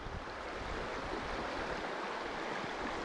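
A river in wild Scottish country flows with a steady, broadband rush of water, continuous and unbroken, with no voices over it.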